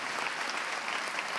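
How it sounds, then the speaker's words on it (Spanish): Steady applause from an audience at a congress opening ceremony, a dense patter of many hands clapping at an even level with no voices over it. "les quiero pedir a los presentes un aplauso"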